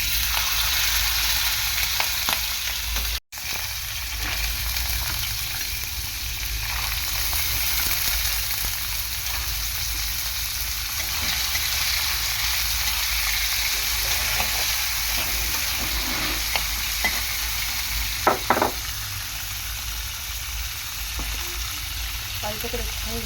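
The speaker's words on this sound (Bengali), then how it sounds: "দেখো ফোড়নটা বেশ সুন্দর ফুটে গিয়েছে, এখন আমি এই ছোলাটা দেবো" Chickpeas sizzle steadily in hot oil with a spice tempering, giving a bright, hissing crackle that carries on throughout, with a few stirring scrapes and a brief break.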